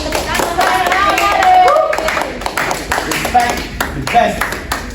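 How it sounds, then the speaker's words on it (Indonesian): Classroom clapping from eleventh-grade students in an environment lesson: a ragged burst of hand claps mixed with overlapping student chatter and voices, loudest early and thinning into scattered claps toward the end. "Tepuk tangan."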